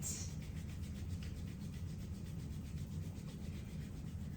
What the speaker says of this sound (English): we're gonna rub the hands together